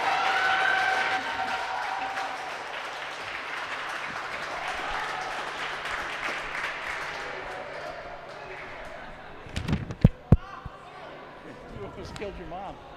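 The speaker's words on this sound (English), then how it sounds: "After the round of applause" Crowd applause at a girls varsity basketball senior night in a gym, a steady broad wash of clapping and cheering for most of the stretch, fading toward the end, where a few sharp thumps like ball bounces stand out; voices mix in.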